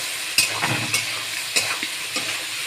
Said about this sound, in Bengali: আলুটা ভাজার সময় একটু নুন হলুদ দিলে আলুরও কালার আসবে।